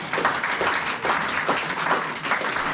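A church congregation claps for the Lord during a sermon, a short burst of steady rhythmic group clapping in a hall, loud and even throughout.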